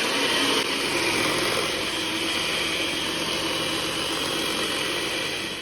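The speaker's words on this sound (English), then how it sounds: "So today we're going to be using an electric mixer instead." Electric mixer whirring steadily as it beats egg whites to stiff peaks for angel food cake, a constant close motor hum with no break.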